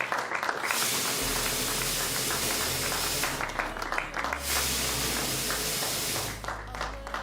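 Sustained applause for the PSPC poker tournament champion at the final table, a broad wash of clapping and hiss-like crowd noise over a low, droning musical bed.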